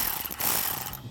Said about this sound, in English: I'm going to take my 4mm and my 10mm wrench.